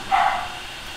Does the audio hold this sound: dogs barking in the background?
yes